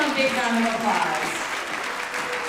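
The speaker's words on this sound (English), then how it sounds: "let's give them a big round of applause." Audience at a gratitude awards event breaking into loud, sustained applause, a dense even wash of clapping that fills the whole moment.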